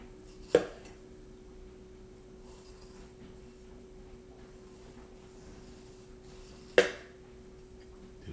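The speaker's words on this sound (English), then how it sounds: "Some nice slicing." A HexClad Japanese Damascus steel knife slicing on a quiet kitchen board: two sharp, isolated chopping knocks several seconds apart over a faint steady hum.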